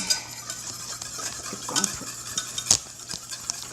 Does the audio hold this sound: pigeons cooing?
no